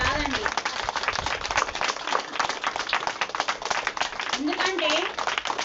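An audience claps loudly and steadily at a spiritual talk, a dense, continuous patter of many hands filling the space with no pause, while a voice rises briefly over it.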